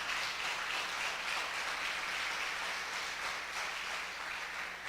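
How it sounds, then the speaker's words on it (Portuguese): A church congregation applauds during a sermon, a sustained, even wash of clapping heard at a distance and fairly faint. "Aplauda o Senhor, irmãos."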